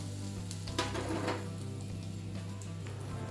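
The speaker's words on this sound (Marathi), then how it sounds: "तेल गरम झाल्या तेलामध्ये हिंग घालून गॅसला बंद करून घेऊ" Asafoetida sizzles in hot oil for a green chili pickle, a steady frying hiss with a few brief clatters and a louder burst early on, with no talking.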